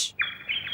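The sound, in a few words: birds chirping in a cartoon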